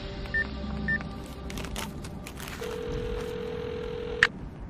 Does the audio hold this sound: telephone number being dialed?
yes